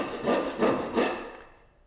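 A hand saw with its starting teeth ground off begins a cut in wood, three slow rasping strokes close by, each a soft scraping push, then fading into silence.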